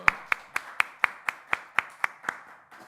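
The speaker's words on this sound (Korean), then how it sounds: "박수." A church congregation at a Wednesday worship service claps in unison, about ten sharp, evenly spaced claps in a steady rhythm, loud and close, with no talk over them.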